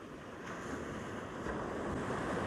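Ocean surf rolling onto a beach on the Coromandel Peninsula, a continuous broad wash of breaking waves mixed with wind buffeting the microphone, rising slightly in strength toward the end, with no voices.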